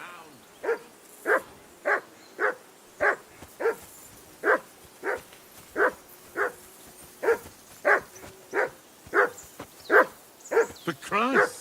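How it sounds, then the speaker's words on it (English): A hound in Kingdom Come Deliverance 2 barks steadily and repeatedly, about a dozen sharp, evenly spaced barks at close range with faint voices in the background. "Call off that damn dog!"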